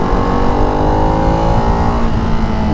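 A Ducati Hypermotard 698 Mono RVE single-cylinder motorcycle engine revs loud and close, its droning note climbing steadily in pitch as it accelerates for the whole stretch, with no talking.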